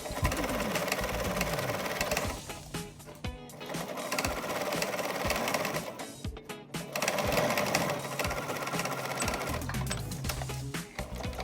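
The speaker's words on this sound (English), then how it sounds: "And now we're sewing up those straps with a 5/8 inch seam allowance." A sewing machine stitches fabric straps at close range, its needle chattering rapidly in bursts with brief pauses and speed changes between runs.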